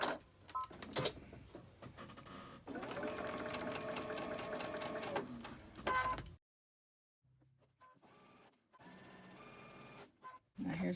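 A sewing machine stitches a quilt in rapid, regular bursts of mechanical clatter, close by, with a long steady run, a silent pause, then shorter stop-start stitching at the end.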